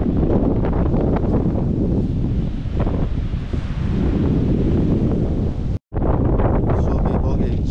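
Strong gusty wind blowing outdoors on a walking route near Stenhousemuir, buffeting the microphone with loud, continuous low rumble and rushing noise, broken by a single brief dropout.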